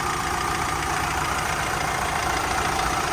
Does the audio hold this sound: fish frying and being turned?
no